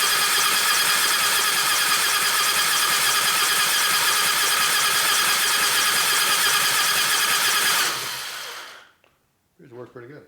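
A 1996 Harley-Davidson FXST Softail with an 80ci Evo engine is cranked over with the ignition off, giving a loud, steady whirring churn for about eight seconds before it stops. Faint voices follow in the quiet.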